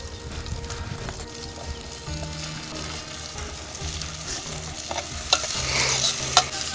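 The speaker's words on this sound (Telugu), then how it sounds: "ఆనియన్స్ కొంచెం ఫ్రై అయ్యాయి అన్నమాట." Onions frying in a pan during outdoor cooking, with steady sizzling, stirring scrapes and clinks running throughout at close range and a few sharper knocks near the end.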